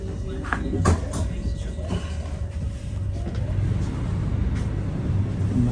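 A vehicle driving in a forest during a heavy storm, heard as a steady low road rumble under a dense wash of wind and rain noise, with a few brief knocks.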